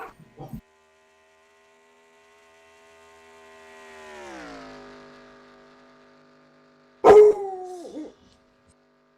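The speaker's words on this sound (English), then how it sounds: "we got dog barking" A dog barks at a Talladega racing event, two short sharp yelps at the end following a long rising and falling engine-like drone, heard at a distance with no speech.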